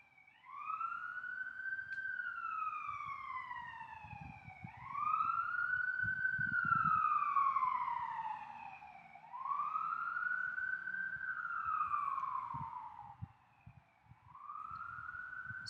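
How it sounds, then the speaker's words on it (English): A wailing siren sweeps up and down in long repeated cycles, loud and steady, with low rumbling traffic noise beneath. "Just let the sirens go by."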